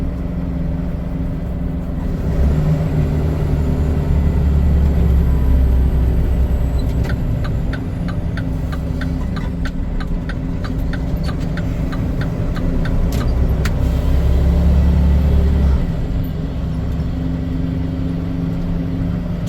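Dump truck hauling asphalt through city streets in Paterson, New Jersey, its engine rumbling low and steady from inside the cab, with a ticking turn signal clicking in a regular rhythm partway through.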